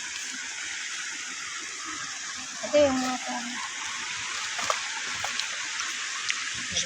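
Steady broadband wash of a river flowing through a shallow swimming spot, continuous and close, with people talking over it and a brief splash partway through.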